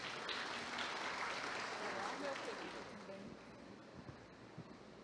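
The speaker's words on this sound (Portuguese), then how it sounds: "Mais uma vez, recebam Lecirene Lima, ela uma salva de palmas." An audience at an award ceremony in a city council chamber applauds with a dense, steady wash of clapping that slowly fades. Faint voices follow.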